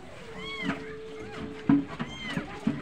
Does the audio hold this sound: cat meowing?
yes